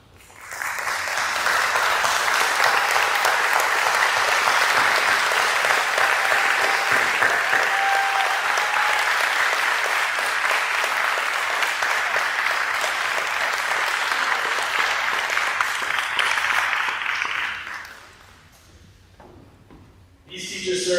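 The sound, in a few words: fourth grade students applauding the faculty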